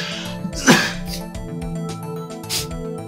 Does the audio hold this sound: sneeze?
yes